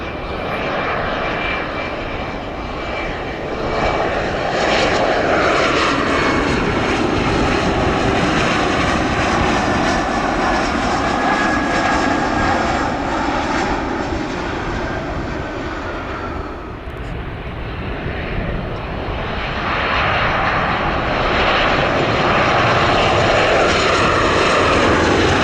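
An American Airlines Airbus A321 jet engine roar at O'Hare airport, loud and steady throughout, with a brief dip partway before swelling again.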